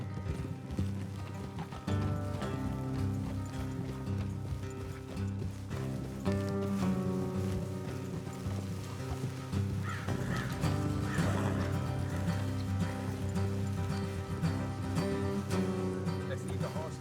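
Horses in Red Dead Redemption 2 gallop along a road, a continuous drumming of hooves under a game music score, with a neigh rising partway through and voices speaking over the ride.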